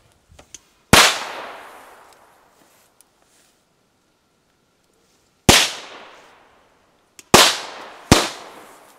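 Triplex firecrackers set off outdoors: four loud, sharp bangs, one early, one near the middle and two close together at the end, each trailing off in a long echoing decay, with a few small ticks and pops between them.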